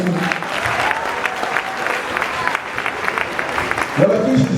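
Loud, sustained applause from the audience after an inaugural university lecture, a steady crackle of many hands with a voice speaking over it near the end.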